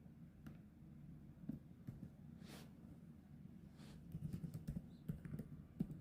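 Soft, rapid keystrokes on a computer keyboard while HTML code is typed, an irregular patter of faint clicks close by under low background hum, with no speech.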